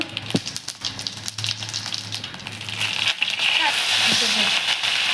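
Cumin and mustard seeds sizzle in hot oil, with a crackling, frying hiss that grows louder and denser in the second half while a person talks over it.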